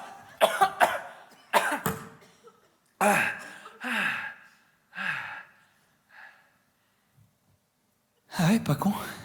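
Someone coughs several times in short harsh bursts, with sighs and gasping breaths between them, close and alone with no talk over them.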